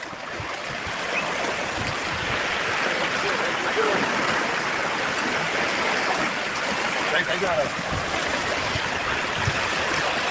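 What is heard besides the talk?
flooded Thamirabarani river water rushing near a bridge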